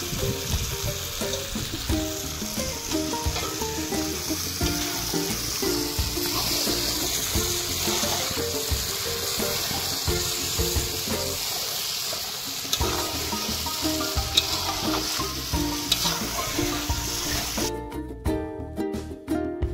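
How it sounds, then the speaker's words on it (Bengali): Spices sautéing in a large pot at an outdoor picnic, a steady frying sizzle with watery bubbling and clatter running throughout, loud and close, with a brief quieter dip near the middle. "সব মশলা কষানো হয়ে গেল"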